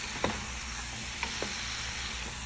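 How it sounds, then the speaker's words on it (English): Steak and potatoes sizzle steadily in a pan while a utensil stirs them, giving a few brief scraping knocks over the constant frying hiss, with no talking. "So just stir all that together like that, you guys."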